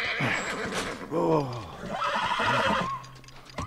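A horse whinnies loudly in a long, wavering neigh in the game The Last of Us, followed by a second shorter neigh over busy game sound effects.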